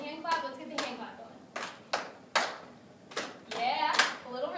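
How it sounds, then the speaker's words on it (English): Rhythmic hand claps from a classroom group during a mock lesson, sharp evenly spaced claps in a steady beat, with voices sounding faintly between them. "let's get the hand clap going"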